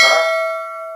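A notification bell sound effect strikes once, clear and loud, and its bright ringing tone fades slowly with nothing else around it.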